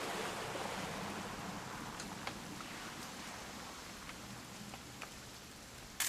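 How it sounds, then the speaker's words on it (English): Steady rain in the video game What Remains of Edith Finch hisses softly and evenly, with a few faint drips and patters standing out now and then. "It's gonna rain the whole weekend,"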